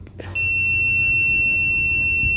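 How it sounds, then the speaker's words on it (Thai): An electronic gem tester gives a sustained, loud, piercing high-pitched beep after touching metal, starting abruptly following a brief tap and holding steady without breaks. "แต่ถ้าเป็นเหล็กนะตรวจโดนเหล็กนี่ก็จะขึ้นนี่วับ จะเสียงดังอย่างนี้เลยปี๊ดเลยนะครับ"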